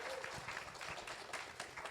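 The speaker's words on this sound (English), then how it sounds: "Y'all, let's clap it up for their community involvement." An audience at a municipal candidate forum hosted by the Arlington, Texas NAACP gives a steady round of applause, a dense even patter of many hands that holds at an even level throughout.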